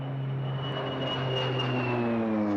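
A C-130 transport plane flies over a wildfire, its engines droning in a steady, loud hum with a slowly shifting pitch as it passes close overhead.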